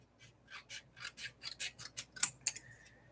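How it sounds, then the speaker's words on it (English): Scissors snip through paper while trimming journal pages to fit, a close run of about ten crisp, evenly spaced cuts with no talking. "come in with our scissors."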